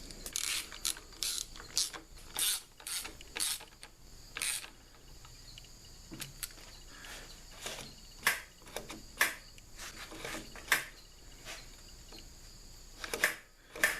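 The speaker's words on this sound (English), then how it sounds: "you saw what I was just doing was turning this adjustment screw under here to make sure that the cable had the right slack" Throttle cable adjustment screw on a Harley-Davidson Dyna being turned during a handgrip install, giving quick bursts of small ratcheting, clicking metal sounds in uneven clusters, close and faint against a quiet background with no talk.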